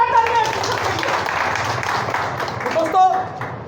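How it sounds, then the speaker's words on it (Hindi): Loud applause from the audience at a Global Plan business meeting in Farrukhabad, steady dense clapping for several seconds with a voice briefly rising over it near the end. "तो एक बार जोरदार तालियां।"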